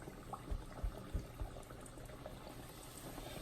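Chicken drumettes are dropped into hot frying oil: a few soft plopping thumps, then a quiet, even bubbling. No one speaks.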